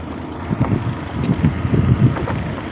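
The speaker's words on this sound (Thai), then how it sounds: "ลมมันเริ่มจะแรง" Strong wind gusting over a river around a small fishing boat out catching river prawns, a steady rushing roar with repeated gusty bumps, no speech.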